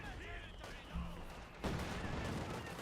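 Conscripts firing rifles at a Sturm Pioneer in the Company of Heroes 2 strategy game, a dense run of gunfire and booming battle noise that swells sharply near the end, with a voice speaking over it.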